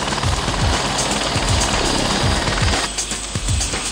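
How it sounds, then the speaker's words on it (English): Loud, close helicopter with a rapid thumping rotor chop over a dense roar, continuous throughout. "Arriving by helicopter, which really is the only way to travel when you are World Rally Champions"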